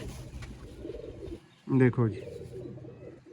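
Pigeons from a Kasur breeder pair setup coo in a short, loud burst of two throaty notes at close range, with someone speaking before and after.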